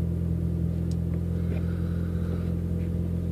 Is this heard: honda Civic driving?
yes